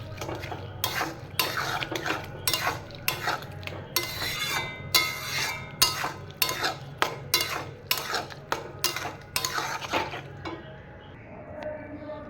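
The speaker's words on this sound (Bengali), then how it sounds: "মাছটা দিয়ে দিয়ে এবার এটাকে মিক্সড করে নেব" A spoon stirs shrimp and bottle gourd curry in a metal pan, giving a steady run of loud scraping, clinking strokes in an uneven rhythm, close up over a faint low hum.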